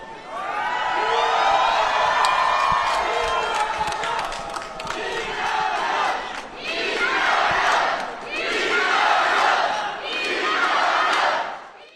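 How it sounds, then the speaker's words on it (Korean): A large crowd greeting politician Lee Nak-yon on his return to Korea after a year abroad, loud chanting and cheering that swells in repeated rhythmic waves, like a campaign rally. "이름을 환호하는 모습은 흡사 유세 현장과도 비슷한 광경이었습니다"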